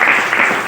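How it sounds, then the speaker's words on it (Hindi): An audience at a meeting in a hall gives a short burst of applause, a dense steady patter of clapping from many hands, close and fairly loud. "वाह, एक जबरदस्त ताली होना चाहिए।"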